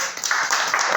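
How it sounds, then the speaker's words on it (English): An audience at a Toastmasters club session applauds, a short, steady patter of many hands clapping together close by. "Let's clap our hands for William."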